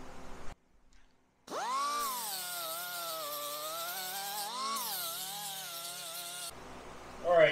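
Power sander smoothing a TIG weld buildup on a cast aluminum cylinder head: a loud, steady whine with strong harmonics runs for about five seconds, pitch dipping briefly under load, then cuts off.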